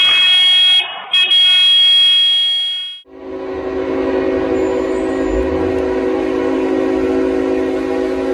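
Train horn blares loudly for about three seconds, then a heavy train rumbles steadily past close by at a level crossing where car-train collisions happen, with no voices.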